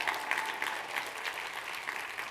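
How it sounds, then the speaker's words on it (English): A modest round of audience applause follows a guest speaker's talk, steady clapping at moderate distance lasting a couple of seconds with no voices over it. "I should get a round of applause for that"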